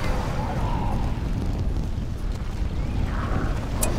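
A dragon's fire breath in the strategy game Battle for Middle-earth, a continuous heavy roaring rumble like a sustained blast, with faint battle noise around it.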